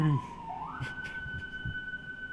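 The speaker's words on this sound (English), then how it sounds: "That's a siren." A distant siren wails, its pitch sweeping upward and then holding steady over faint street noise and low rumbling traffic.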